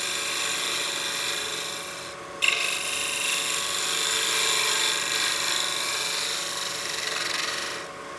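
Steady broadband scraping and hiss of a wood lathe tool cutting a V-groove into a spinning witch block head turning, with a brief sharper catch near the middle, continuous and close throughout.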